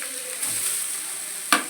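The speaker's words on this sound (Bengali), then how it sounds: "এই দেখো তেলের মধ্যে দিয়ে দিলাম" Shredded beetroot hitting hot oil for a simple Bengali beet fry, giving a steady close sizzle with a sharp burst of crackling near the end; no one speaks.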